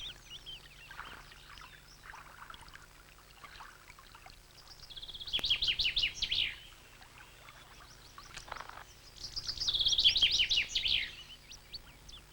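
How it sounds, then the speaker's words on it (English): Birds sing in a Scots pine forest at midsummer, with two bright bursts of song standing out over fainter scattered calls and a low steady background. "the Great Wood rings to the songs of many birds."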